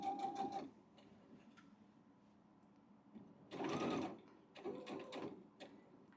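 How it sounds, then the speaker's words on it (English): A home sewing machine stitches a seam on a beginner's baby quilt. It runs in short bursts, close and fairly quiet, with pauses between runs and no talking. "drop my presser foot, and stitch down this line"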